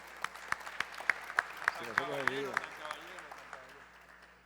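A conference audience at the Caribe Mundial event in Cartagena claps for a presenter, with steady rhythmic hand claps at a moderate distance while someone speaks over them.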